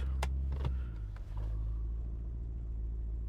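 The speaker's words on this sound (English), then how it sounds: "Engine's purring away. Got that gorgeous V8." A 2005 BMW Alpina B5 with a V8 engine idles in a low, steady rumble heard from inside the car, with a few brief clicks early on and no talk.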